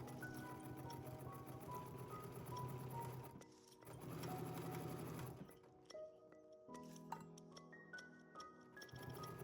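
A sewing machine stitches through four layers of a holiday stocking in steady rapid bursts, running for a few seconds, pausing briefly, then resuming, with small clicks between runs.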